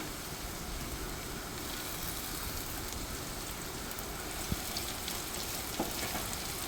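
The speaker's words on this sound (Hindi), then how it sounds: "इसे अच्छे से हम भून लेंगे।" A paste of ground tomato, coriander and green chili fries in hot oil with ginger-garlic, giving a steady, even hiss and crackle that carries on without a break, with a couple of faint clinks near the end.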